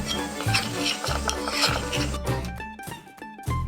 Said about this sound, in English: So I'm going to mix this up.